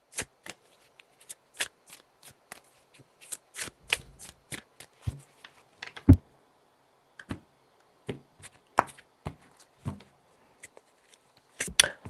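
Tarot cards shuffled and handled in sparse clicks and soft snaps, irregular taps of cards meeting each other, close and fairly quiet throughout.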